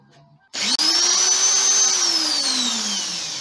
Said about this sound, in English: the drill is still making a lot of sparks